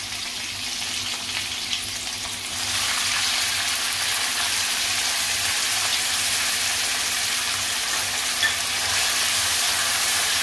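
Onions frying in hot oil with bay leaf, cumin and curry leaves, a constant loud sizzle that grows stronger partway through, plus occasional stirring sounds.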